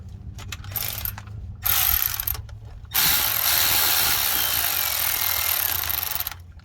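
Ratchet wrench clicking rapidly while starting the starter motor bolt on a 2001-2006 GM truck such as a Silverado, close and loud, in two short bursts followed by a longer steady run of clicks.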